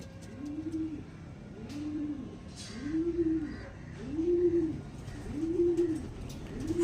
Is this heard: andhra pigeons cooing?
yes